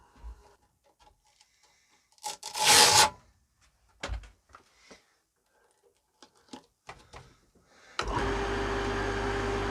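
A hazel natural slingshot being sanded with 400 grit sandpaper: scattered soft rubbing and rasping strokes, one longer gritty scrape, then a loud, steady whirring noise that runs to the end.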